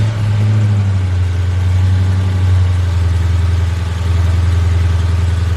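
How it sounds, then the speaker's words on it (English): A Dodge Challenger Scat Pack 392 wide body idles nearby with a loud, steady low burble and deep hum that hold almost unchanged throughout, with no clear start-up heard. "let me turn on the vehicle"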